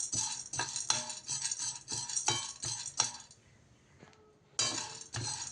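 Roasted gram and cardamom are stirred in a pan with a metal spoon. Repeated scraping, clinking strokes come close and clear, pause briefly, then resume.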